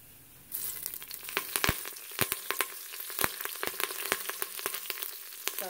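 Mustard and cumin seeds hit hot oil in an Instant Pot, bursting into a sudden loud sizzle with dense, irregular sharp pops and crackles that keep on close by.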